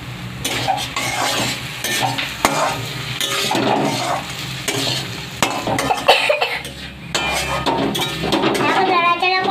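Brinjal is stirred and fried in a pan, with repeated scraping strokes and clinks over a low sizzle. Someone talks faintly in the background.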